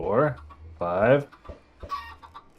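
Minecraft chickens clucking in a short burst of several squawky calls, moderately loud, with a few quieter clucks trailing off, no talk.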